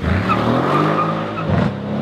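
A twin-turbocharged Mercedes-AMG C63 S drifts with a loud, continuous engine roar and screeching tire skid, the sound steady throughout and swelling briefly near the end.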